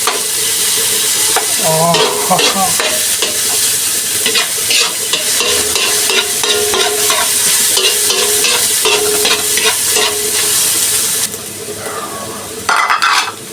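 Onion and garlic sautéing together in a frying pan, a steady loud sizzle with stirring scrapes and clinks of a utensil against the pan; a brief voice exclaims once.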